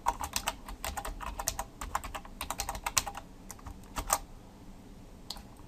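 Fast, uneven keystrokes on a computer keyboard at close range, clicking in bursts with brief pauses while someone types into a WordPress SEO title field; no voices.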